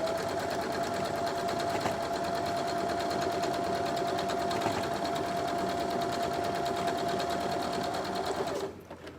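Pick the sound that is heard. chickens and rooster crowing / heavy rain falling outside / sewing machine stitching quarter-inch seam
sewing machine stitching quarter-inch seam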